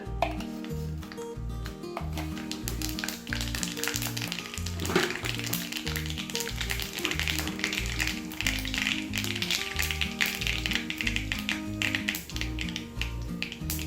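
Mustard seeds spluttering in hot coconut oil, a dense close crackle of rapid pops and taps that runs steadily throughout against a faint rhythmic background of music.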